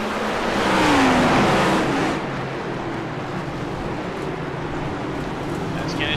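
Race cars in a racing video game launching at the start at Sonoma, a loud engine roar swelling in the first two seconds and then settling into a steady drone, with a voice talking over it.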